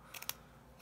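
Scissors snip through paper while making a handmade greeting card, giving two or three quick, crisp, close cuts in a quiet room, with no talking.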